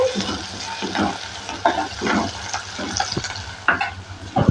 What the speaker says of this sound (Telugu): ఇప్పుడు పాలకూర వేస్తానండి.